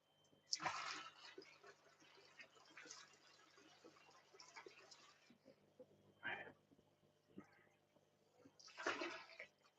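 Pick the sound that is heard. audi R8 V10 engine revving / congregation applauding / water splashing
water splashing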